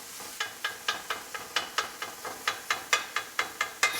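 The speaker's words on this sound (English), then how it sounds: "kind of mixing in the onions, chopping them up a little bit more." Onions and ground beef with seasoning being stirred and chopped in a hot pan, rhythmic scraping strokes about every quarter second over a steady sizzle, close and clear, with no talking.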